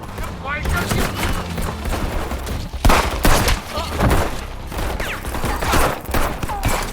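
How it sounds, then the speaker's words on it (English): Heavy gunfire during a film chase scene in which a mafia group is pursued with military support, bursts of rapid shots and booming thuds layered over music and other effects, with a narrator talking over much of it. "After a long chase and heavy gunfire, the mafia group was cornered."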